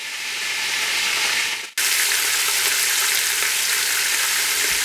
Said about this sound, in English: We're going to add a couple of tablespoons of our garlic infused extra virgin olive oil.